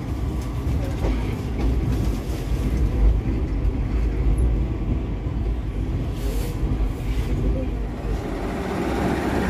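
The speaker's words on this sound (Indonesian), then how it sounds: "Akhirnya kereta api Cikuray sudah tiba dan berhenti di stasiun Leles." Cikuray train pulling into Leles station and stopping, a steady loud rumble of rolling carriages and engine noise from onboard, continuous throughout.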